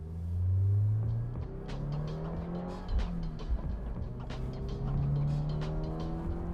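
Subaru BRZ tS driving on a race track, engine rising and falling through acceleration and gear changes, heard from onboard at moderate level with some tire noise and rumble.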